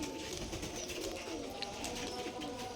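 Giribaz pigeons coo softly in a loft or enclosure, low rolling murmurs under a constant hum of background noise, with no one speaking.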